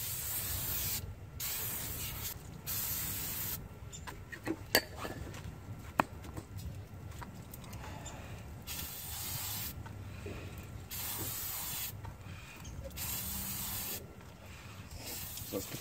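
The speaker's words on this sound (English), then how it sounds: "I'm using a non-chlorinated brake clean here that I got from CarQuest." Non-chlorinated brake cleaner sprayed onto a brake rotor of a 2001 Jeep Grand Cherokee in freezing 14-degree weather, with intermittent bursts of aerosol hiss mixed with faint clicks and rubbing handling noises, fairly quiet.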